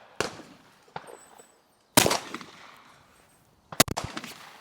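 Shotgun blasts at sporting clay targets outdoors: a sharp shot, a fainter one, a loud report, then a quick double, each with a short echoing tail.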